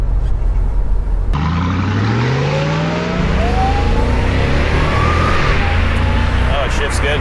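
A 2002 Ford Lightning pickup truck with 39k miles revs loudly and accelerates hard, its engine pitch climbing then dropping through gear shifts, with voices over the roar.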